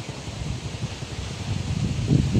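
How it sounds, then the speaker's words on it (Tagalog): Strong wind after a typhoon blows steadily outdoors, a dense low rumbling roar with buffeting gusts against the microphone that swell louder near the end, with no talking. "Mahangin pa rin dito guys, oh."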